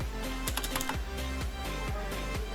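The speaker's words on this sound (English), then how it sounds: "Just type volume booster." Computer keyboard being typed on, a brisk run of close, crisp key clicks with a few faster clustered strokes, over a steady low hum and no speech.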